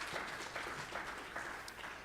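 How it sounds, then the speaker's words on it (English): Faint, steady applause from an audience at a community candidates forum honoring panelists, continuous clapping at a distance with a low background murmur. "Give them a hand clap of praise, please."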